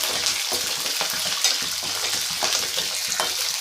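Green chillies and ginger frying in a pan for a lentil chutney, a steady close sizzle with intermittent scraping and stirring strokes, no voices.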